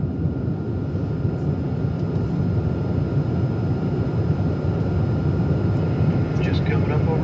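Steady low roar of jet airliner cabin noise during a flight from Phoenix to New York JFK, a constant broadband rumble with faint occasional tones and brief voices near the end.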